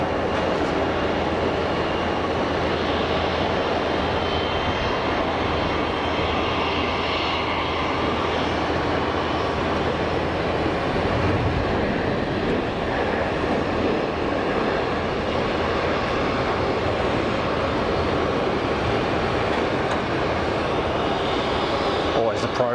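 An easyJet Airbus A319 arriving from Manchester at Geneva airport, a constant loud engine rumble and roar with steady wind-like noise throughout, close and unbroken.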